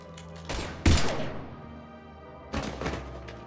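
Gunfire in the Mass Effect 3 video game, a few heavy thumping shots: a loud burst near the one-second mark, then a second cluster of impacts around two and a half seconds, with ringing decay between.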